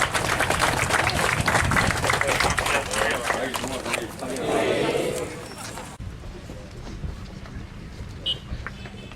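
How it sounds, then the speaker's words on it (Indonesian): Crowd applause at a provincial government ceremony honoring athletes, loud dense clapping that fades after several seconds into quieter room noise with faint voices. "Dan tepuk tangan"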